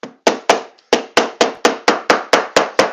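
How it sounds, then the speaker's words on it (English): A hammer pounds leather on a saddle in a steady series of about eleven sharp, close knocks, each ringing briefly before the next blow, with no talking. "Hammer it into place."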